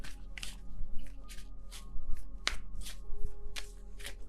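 Tarot cards being shuffled by hand, a quick series of crisp riffling and slapping bursts repeating in an uneven rhythm, close and fairly loud with no talk over them.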